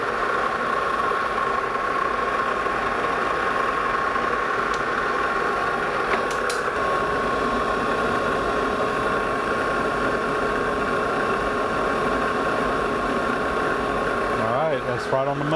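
A metal lathe runs steadily under power feed, threading a new 1/2-inch 13-pitch pin for an Emmert pattern maker's vise, with a constant mid-pitched motor drone and faint cutting noise throughout, briefly changing near the end.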